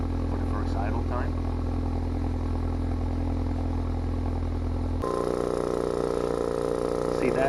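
A Ford Focus RS idling with its exhaust valve open, a steady low droning burble that holds evenly, then shifts to a slightly different tone partway through, with a voice talking over it.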